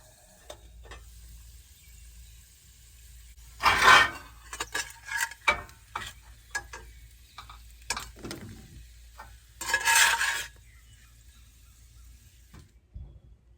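Potatoes frying in a pan at a camp breakfast, a soft steady sizzle running throughout with louder bursts of stirring and scraping around four and ten seconds, close by.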